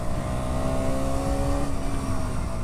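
A KTM Duke 125 motorcycle engine holds a steady high-rpm buzz, loud and continuous with a whining tone, close by and without talking.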